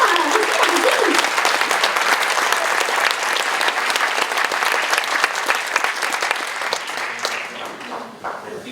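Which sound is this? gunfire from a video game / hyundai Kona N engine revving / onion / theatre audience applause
theatre audience applause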